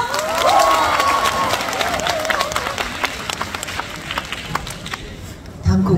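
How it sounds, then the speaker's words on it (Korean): At a live performance on a Korean music stage, a crowd claps and cheers, with scattered handclaps rising over a shouting audience and a voice calling out early on. "박수로 즐겨주세요."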